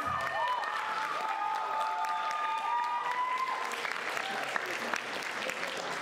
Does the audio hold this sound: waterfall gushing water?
no